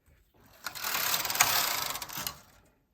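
A bulky SK150 knitting machine carriage sweeps across the needle bed while short rowing the heel of a felted slipper, one smooth whirring, rattling pass of about two seconds, close and moderately loud, with no talking.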